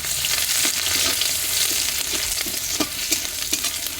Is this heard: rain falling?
no